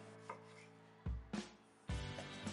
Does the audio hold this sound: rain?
no